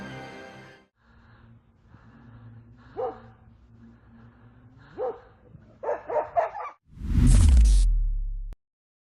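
A dog in dark woods barks and yelps in short scattered bursts while attacking a wolf, moderately close, ending in a loud rush of noise.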